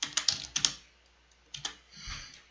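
Quiet typing on a computer keyboard, a quick burst of several key clicks, a pause, then two more taps and a softer final press.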